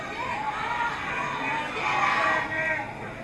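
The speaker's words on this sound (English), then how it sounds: "you can even hear people in the crowd" A fight-night crowd roars and shouts continuously in the arena, a dense wash of many voices swelling louder near the end, with commentators talking over it.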